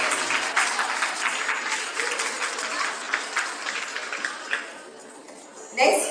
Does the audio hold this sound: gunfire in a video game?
no